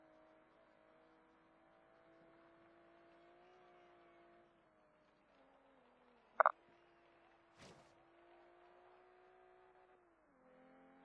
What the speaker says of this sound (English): You can hear his car over mine.